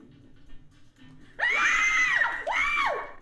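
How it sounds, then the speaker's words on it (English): Two girls scream in terror, a loud, piercing shriek that rises and falls, then a second sustained wail, after a stretch of faint murmuring. "There is definitely something authentic and quite terrifying about the way these two girls scream."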